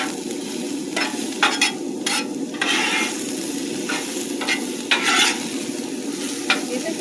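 Onions and other vegetables fry on a hibachi grill, a steady close sizzle broken by repeated metal spatula scrapes and taps as they are stirred.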